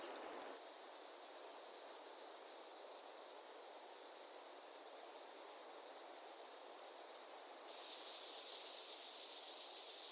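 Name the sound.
cicadas singing in the Tian Shan steppe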